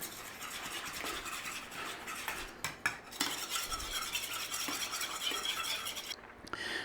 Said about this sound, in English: And we're going to give that a mix in.